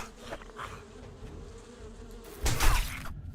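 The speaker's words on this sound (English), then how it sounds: "Oh, I hear bees. Here come the bees." Bees buzz steadily in the survival game 7 Days to Die, a thin insect drone running throughout, with a louder, harsher burst near the end and no talking.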